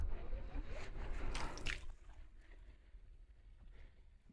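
A small 12V solar-powered water pump motor runs off a 45 Ah battery while water pours out in a steady, close splashing rush that fades partway through to a quieter trickle.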